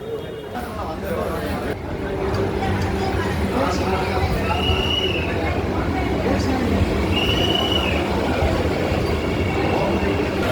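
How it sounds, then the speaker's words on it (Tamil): A Vande Bharat high-speed train rumbles steadily into a platform at Tiruppur, wheels rolling loudly with brief high squeals of the wheels and faint crowd murmur in the background. "வந்தே பாரத் ட்ரெயின் வந்தாச்சு கரெக்டாக சிக்ஸ் தேர்ட்டி நைன்க்கு இங்கே ரீச் ஆகிருக்கு"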